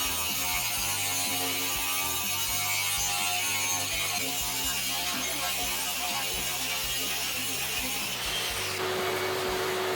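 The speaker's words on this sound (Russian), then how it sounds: "Плитка оказалась из твердой керамики. Остальные отверстия прорезаем точно так же." A power tool cuts holes in hard ceramic tile for a kitchen backsplash, giving a continuous, close, loud grinding whine that holds steady for ten seconds and shifts in tone near the end.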